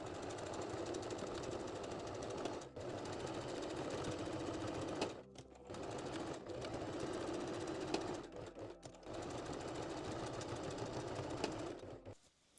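A sewing machine runs a zigzag stitch along a bikini channel, a fast steady mechanical whirring rattle heard up close, with two short pauses before it stops.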